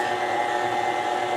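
A steady, droning motor hum with a constant whir, running continuously without pause or change in pitch.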